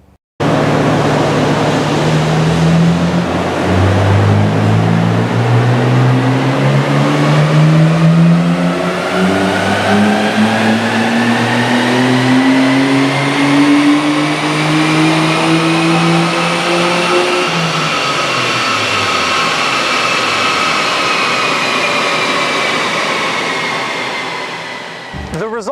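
A Nissan Skyline GT-R engine on a dyno run, revving steadily upward through the gears in one long, loud, continuous pull with rising harmonics, then dropping off sharply near the end.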